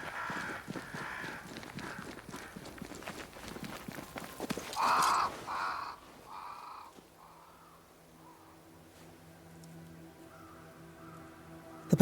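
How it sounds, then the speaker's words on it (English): Crows caw in a repeated series of harsh calls near a great tree in Banishers: Ghosts of New Eden, moderately loud over ambient rustling, then fading out to low sustained tones. "Crows. They flock to that great tree up there."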